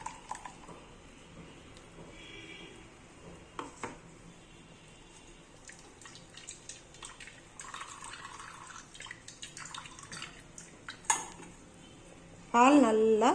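Ground coconut paste is squeezed and strained to extract coconut milk for a bread and coconut-milk custard sweet, with quiet drips and trickles and light clinks of utensils and vessels close by.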